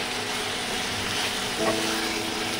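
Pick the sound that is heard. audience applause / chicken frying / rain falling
chicken frying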